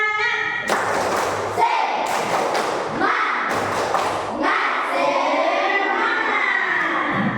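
Classroom students perform a rhythmic spirit clap, with several bursts of group claps and thumps in a patterned sequence. Children shout and talk between and over the claps.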